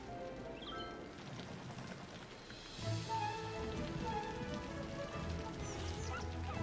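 Rain falls over a town in the city-building game Verville City, a continuous soft hiss of drops that swells slightly partway through and plays alone.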